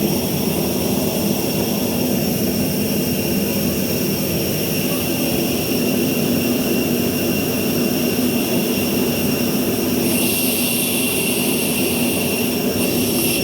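Aboard a passenger flight from Tacloban to Manila, a loud, steady roar of jet engines fills the cabin, a constant broad whoosh with a faint hiss rising near the end and no voices.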